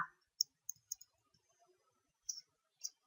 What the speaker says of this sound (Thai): ดับเบิลคลิกค่ะ